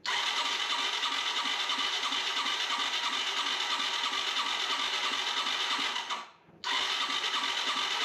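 A 1983 Yamaha Tri-Moto YTM200 three-wheeler, a barn find started for the first time in 20 years, runs steadily with throttle open, a loud buzzing engine drone that cuts out briefly near the end before resuming.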